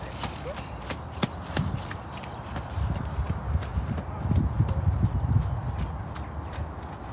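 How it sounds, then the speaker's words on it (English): A wild horse being broken in, cantering on a training floor, with repeated hoof clops and thuds and a rumbling rise in the middle. Faint talk is audible in the background. "spank the floor with the plastic bag, and away he goes into canter."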